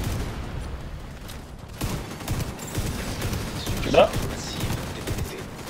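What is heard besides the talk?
gunfire from the video game Dark Hours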